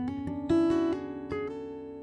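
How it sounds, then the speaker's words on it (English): Guitar open strings ringing out and sustaining as a few plucked notes land over them, close and clean with no voice. "The beauty of the open strings is you can make sounds like this."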